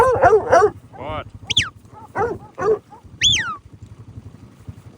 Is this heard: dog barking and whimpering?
yes